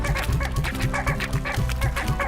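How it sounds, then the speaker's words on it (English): A crowd of hens clucking in a corral in the video game Slime Rancher, busy overlapping clucks in a quick steady rhythm, close and fairly loud, with no talking. "Wow, this is a lot of hens."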